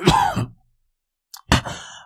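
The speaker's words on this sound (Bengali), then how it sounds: "তুমি 2 সেকেন্ড পর ফেক কাশিটা কেন দিতেছো?" A man gives a short, forced fake cough, close and alone, then a pause of silence and another brief throat-clearing burst.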